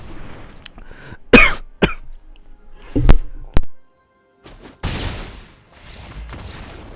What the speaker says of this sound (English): Excuse my coughing there.